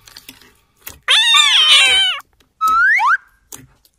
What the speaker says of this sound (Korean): 이게 무슨 소리지? 고양이 소리?